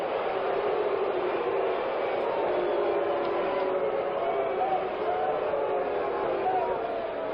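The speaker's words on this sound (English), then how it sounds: "Now the crowd starts in again." Football stadium crowd noise at a Raiders versus Steelers game, a broad, steady roar of many voices heard from a distance, continuous and moderately loud with no distinct individual sounds.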